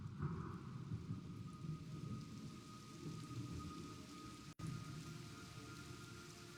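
Heavy rain pours steadily and close in a stealth-action video game jungle, with a constant dense patter and low rumbling underneath, briefly cutting out for an instant before resuming.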